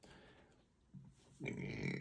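A man lets out a single short, close burp near the end, preceded by a quieter low grunt-like sound.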